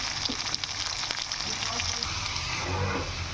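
Beans being stir-fried for chowmein produce a continuous loud sizzle, with scattered clicks and scrapes from stirring throughout.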